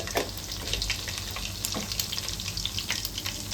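Hot oil for khichdi, with cumin seeds dropped in, sizzles in a steady, dense crackle with a few faint clicks and no talk.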